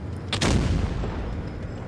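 A tank cannon fires in World of Tanks Blitz from an Emil II, a single heavy boom near the start that rolls into a sustained low rumble.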